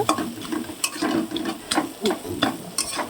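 Fish heads sizzle and fry in a wok with onions while a metal spatula stirs and scrapes them, giving a steady hiss broken by repeated clattering strokes, close and loud.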